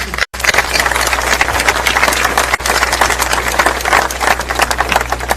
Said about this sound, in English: So I think, Mayor, you need another round of applause